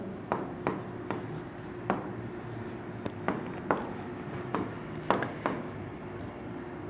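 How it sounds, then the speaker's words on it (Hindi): A teacher writes differentiation formulas during a Class 12 maths lesson, giving a steady run of short, sharp scratching strokes, close and fairly quiet, over a low background hum. "जैसे देखिए अभी लिख ही देते हैं।"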